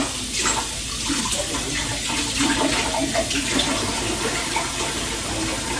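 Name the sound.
water being poured into a sauce jar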